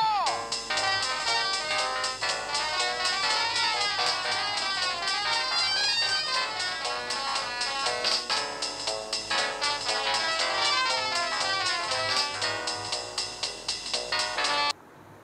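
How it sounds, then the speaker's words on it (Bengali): A bright electronic ringtone melody plays continuously and loudly for several seconds, then cuts off abruptly near the end. "আবার ফোন এসছে।"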